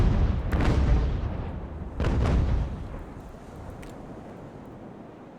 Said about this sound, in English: See now that grape shot shoot